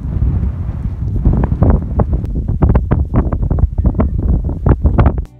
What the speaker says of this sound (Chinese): 景区里只有纯净的风声